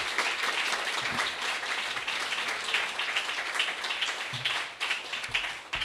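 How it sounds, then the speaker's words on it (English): Audience applause for panelists at the close of a bookstore evening discussion on gentrification, many hands clapping steadily and fairly loudly throughout, with a few sharper individual claps standing out. "I just want to give the panelists here one more round of applause"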